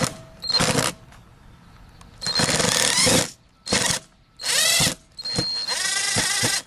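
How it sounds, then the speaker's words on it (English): Impact driver sinking deck screws into a board on a deck: five loud, close bursts of rattling, hammering whir separated by short pauses, the last one longest and tailing off with a ratcheting clatter. "when you put the impact driver in there and you give it some juice"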